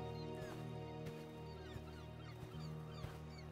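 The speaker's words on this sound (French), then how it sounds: "On entend les mouettes par là." Seagulls call in the Project Castaway survival video game, a faint scatter of short squawks over a steady low ambient hum and soft shoreline background.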